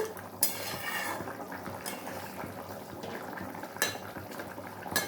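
A pot of shankar (stingray) fish curry simmers softly, and a utensil gives a few sharp clinks against the metal pot over the low bubbling.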